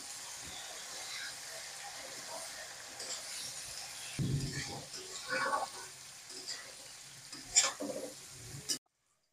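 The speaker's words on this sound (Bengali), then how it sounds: "এবারে আমি বয়েল করে রাখা কাঁঠালগুলো ভেজে নেব।" Soft, continuous sizzle of boiled jackfruit pieces frying in oil, with a few louder clatters and stirring bursts near the end, fairly quiet overall.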